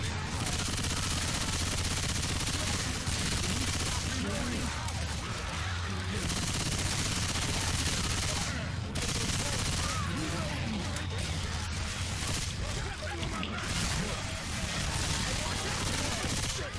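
Gunfire in Left 4 Dead 2, dense rapid shooting bursts that run almost continuously and loudly, with players talking over the shots.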